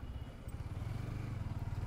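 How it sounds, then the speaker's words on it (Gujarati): A Kawasaki ZX-10R superbike engine runs steadily close by, a low, even rumble that holds through the whole stretch with no voices. "ભાઈ ZX 10R કાવાસાકીની બાઇક છે"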